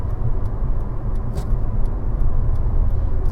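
A car's engine braking while the driver downshifts in manual mode on a night highway, heard from inside as a loud, steady low engine drone and road rumble with no talking.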